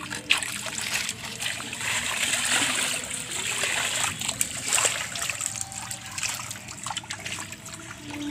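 A small child bathes in a village pond for the first time, with steady close splashing and trickling water churning under occasional voices and outdoor background noise.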